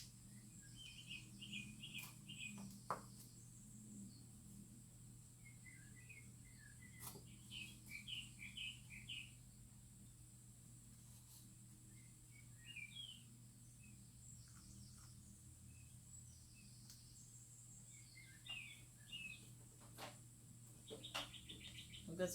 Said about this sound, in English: We've got some really noisy birds here.